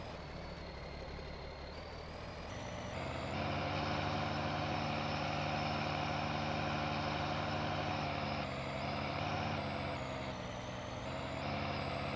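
Truck engine in Farming Simulator 19 idles and revs as the vehicle backs up and parks, with a steady low rumble, a few gear and throttle shifts, and faint reversing beeps.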